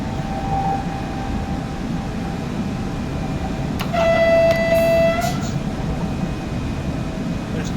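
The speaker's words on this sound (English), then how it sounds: "Give him a bit of a toot." A passenger train in the SimRail railway simulator gives a short, steady horn toot of about a second and a half over a constant low rumble of the moving train.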